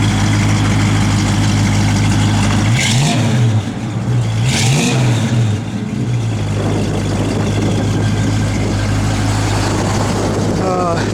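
A 1969 Ford Mustang Fastback engine idling nearby is blipped through two sharp revs that rise and fall quickly, then settles back to a steady low rumble while someone speaks faintly over it.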